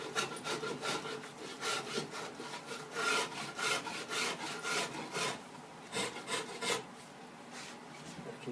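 Rhythmic rasping strokes of a hand tool shaping a wooden guitar neck, about a dozen quiet back-and-forth scrapes at an even pace, close and alone.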